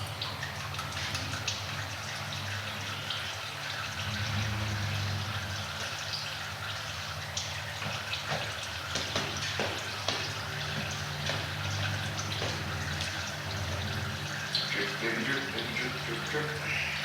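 Engine oil draining from a car's five-quart oil pan, a steady trickling stream with occasional drips, close and moderately quiet, with a voice faintly present at times.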